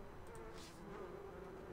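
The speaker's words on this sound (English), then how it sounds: "A huge number of bees dance in and out in a swarm." Swarm of bees buzzing around a beehive hanging high in a tree in the fantasy game Sorcery!, a steady, low droning hum that stays continuous throughout.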